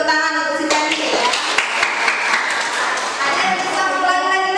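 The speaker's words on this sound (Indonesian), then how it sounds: "Kasih tepuk tangan untuk si Penny ya" Students in a classroom give a brief burst of clapping, close and uneven, starting abruptly and fading after a few seconds, with voices speaking over it at the start and end.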